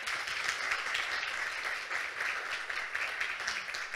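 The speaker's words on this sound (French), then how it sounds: "On peut peut-être l'applaudir quand même." Steady applause from a conference audience after a talk at an agile event, a continuous moderate patter of many hands clapping that lasts the whole stretch.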